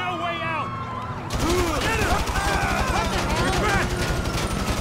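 Draco gunfire in GTA 5 crackles as rapid, dense automatic bursts under overlapping voices and game audio, loud and continuous from about a second in.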